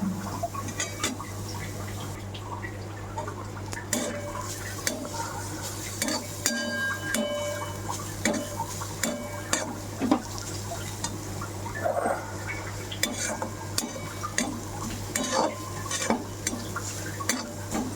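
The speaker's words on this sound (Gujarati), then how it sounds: "આ રીતે સતત હલાયા કરવાનું, બીટ ચડી જાય ત્યાં સુધી." Beetroot roasting in ghee in a pan, stirred continuously with a utensil: steady soft scraping and clinks against the pan over a low sizzle and a constant low hum, close and without talk.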